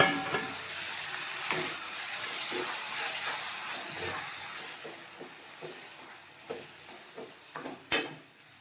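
Tomatoes fry with sautéed onions and asafoetida for thakkali thokku, a soft, steady sizzle and hiss with occasional stirring clinks and a sharper knock near the end. The sound is fairly quiet and close, with no voices.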